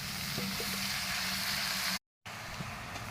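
Eggplant frying in hot oil in a pan, a loud steady sizzle and crackle throughout with a brief gap of silence partway, no talk.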